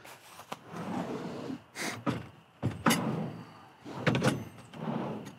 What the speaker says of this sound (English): That drawer slide is gonna be so, so nice to have.